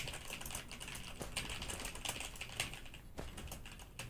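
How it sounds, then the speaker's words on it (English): Fingers type on a computer keyboard in a rapid run of soft clicking keystrokes, faint and steady throughout with no voices. "Is it just gonna be typing?"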